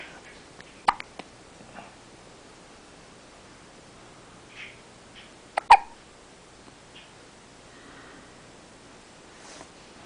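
Baby hiccups: a few small, sharp clicks spaced apart over a quiet room background with faint rustling, no talking.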